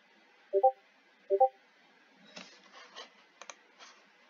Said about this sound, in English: I suck at typing.